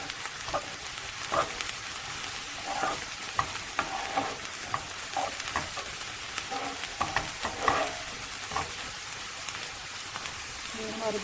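Ingredients for shakshuka, a dish of eggs in tomato sauce, frying in a pan until browned, giving a steady close sizzle and crackle with occasional stirring scrapes throughout.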